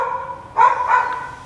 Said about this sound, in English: that dog wasn't barking at all until I started filming